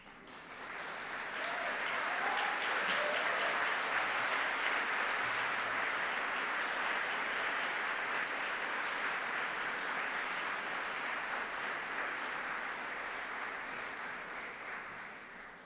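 Graduating students at a university graduation ceremony applaud their supporters, a long, dense wave of clapping that swells quickly, holds steady and then gradually tapers off, filling a large hall.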